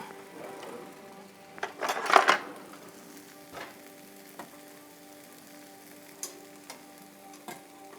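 A breakfast scramble sizzling and frying in a pan, a steady soft crackle with a louder stirring burst early on and a few sharp pops afterward.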